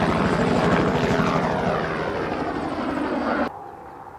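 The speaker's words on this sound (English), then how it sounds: "Project Heaviside is Kitty Hawk's latest electric VTOL vehicle" A Kitty Hawk Heaviside electric VTOL aircraft flies past, a loud whirring rotor drone with a sweeping pitch shift that fades gradually before cutting off abruptly near the end.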